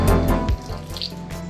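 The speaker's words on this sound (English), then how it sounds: "So now we just add some water." Tap water runs into a bowl of fish cake batter for Bajan fish cakes, a loud close splash that cuts off abruptly, followed by light handling noise.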